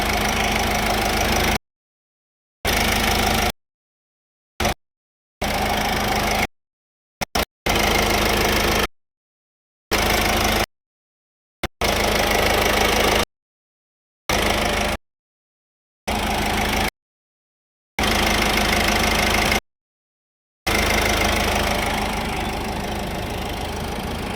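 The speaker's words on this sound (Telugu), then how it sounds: "ఇంజిన్ పొజిషన్ ఎలా ఉందో ఒకసారి బీటింగ్ అనేది చూసుకోవచ్చు" A 2014 Ford EcoSport Titanium with a 1.5-litre diesel engine idling, a steady close mechanical clatter heard in repeated stretches broken by silent gaps.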